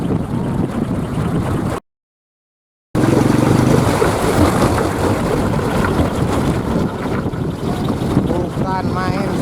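A wooden kolecer wind propeller whirs under gusty wind and rain, with heavy wind buffeting on the microphone. The sound cuts out briefly, then the rough, fluttering whir returns, close and loud.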